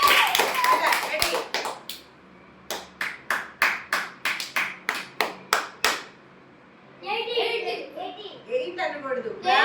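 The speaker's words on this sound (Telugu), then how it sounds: "క్లాప్ అంటే ఒక క్లాప్ 10తో సమానం" Sharp single hand claps in a children's counting game, a quick burst followed by a steady run of about a dozen evenly spaced claps, close and crisp, with voices talking before and after.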